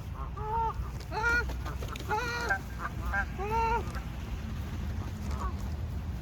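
Geese honk repeatedly in loud, nasal calls in bursts across a city nature walk, close by over steady background rumble of urban noise.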